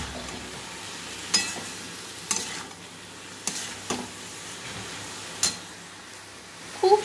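Masoor lentils with tomato, turmeric, chili powder and salt are stirred in a sizzling pan, with a steady frying hiss broken by several sharp scrapes of the spoon against the pan and no talk.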